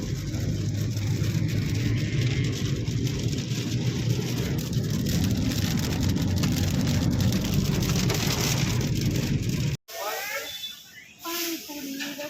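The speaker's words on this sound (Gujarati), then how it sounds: "કેટલો ફૂલ વરસાદ પડે છે." Heavy rain drums on a car on the road toward Rajkot, a dense steady hiss and patter close around the cabin for most of the stretch, then cuts off abruptly into quieter sounds near the end.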